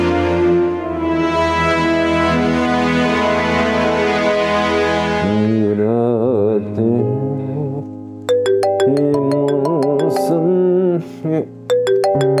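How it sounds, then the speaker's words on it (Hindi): A mobile phone rings in a TV drama scene. Sustained background music gives way to a loud, repeating electronic ringtone tune that keeps cycling through the final third, with no talk over it. "फिर फोन आ गया इसका।"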